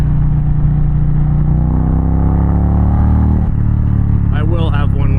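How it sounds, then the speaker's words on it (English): Porsche car engine passing by as a motorcycle rides alongside, a steady loud drone that rises slightly in pitch and then drops. A motorcycle's engine hum runs underneath, and a voice speaks near the end. "Sweet Porsche."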